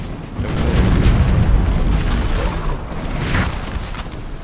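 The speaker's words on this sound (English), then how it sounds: "There you go, artillery bombarding away." Massed artillery bombardment in Napoleon Total War during a multiplayer battle at Fuentes de Oñoro, a continuous low rumbling barrage of distant booms without distinct individual shots.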